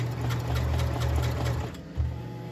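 A sewing machine stitches a fabric grow bag nearby with a loud, steady mechanical whir. It pauses briefly, then restarts in a short burst.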